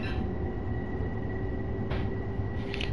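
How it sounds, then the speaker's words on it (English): Express commuter train to Crestwood in a PS4 train game, a loud, steady rolling rumble with a constant mechanical hum and faint brief hisses, and no voices. "This is essentially like the express train to Crestwood."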